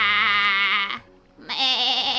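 Sheep in the Minecraft game give two quavering, nasal bleats, loud and close, with a short pause between them.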